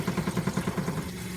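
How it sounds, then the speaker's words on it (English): An RV water pump in a Winnebago Micro Minnie 1700BH trailer runs with a rapid, rhythmic mechanical pulsing for about a second, like a small pump cycling, fairly loud and close, then fades. "That's your water pump."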